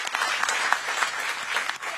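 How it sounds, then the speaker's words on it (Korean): Applause from a studio audience or newsroom staff, a steady, dense clapping that fills the whole stretch at moderate loudness, celebrating Han Kang's Nobel Prize in Literature on a Korean TV news broadcast. "크게 박수 한번 주세요."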